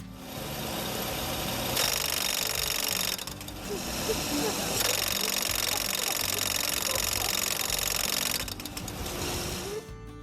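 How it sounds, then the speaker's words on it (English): A car engine makes a loud, continuous mechanical clatter with rapid hammering knocks, steady throughout with brief dips in intensity, knocking hard like a jackhammer. "My engine sounds like a jackhammer."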